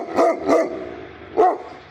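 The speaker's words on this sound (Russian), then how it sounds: "Хватит гавкать." Small dog in the Mestre district of Venice barking sharply nearby, two quick barks followed by a pause and a third, with no voices over them.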